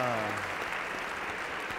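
Studio audience on a TV talk show breaks into steady, dense clapping that fills the room, right after a brief voice at the start, before a child recites a Quran surah.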